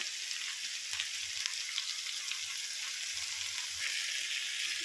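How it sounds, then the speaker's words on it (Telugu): Raw gongura leaves fry together with tender chicken pieces in a curry pan, making a dense, even, close hiss of sizzling oil that runs throughout without pause or talk. "గోంగూర చికెన్తో పాటు ఫ్రై అయ్యిద్ది గోంగూర కూడా"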